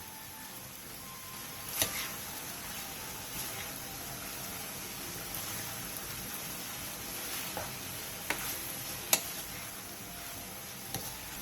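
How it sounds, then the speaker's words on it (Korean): Cheongyang chili, red chili and green onion stir-fry in a pan with a soft, steady sizzle, punctuated by a few light clicks and taps from stirring. "그 다음 청양고추, 홍고추, 대파를 넣고 2분 정도 더 볶아주세요."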